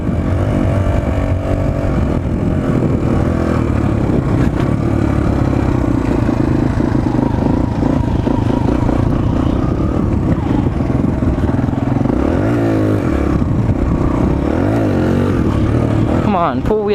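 Suzuki DR-Z 125L dirt bike engine running continuously while riding, a loud steady buzzing drone with wind rush and rattling, revs rising and falling briefly near the end.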